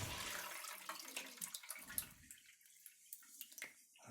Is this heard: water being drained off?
yes